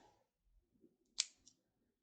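Scissors make one crisp snip through paper while trimming a card banner, with a faint second click just after. The snip is close but quiet, in a near-silent room.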